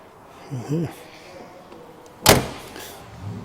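A car door from around 1984, seen at a classic car auction, is swung shut with a single solid thump, preceded by a brief spoken phrase and soft handling noises.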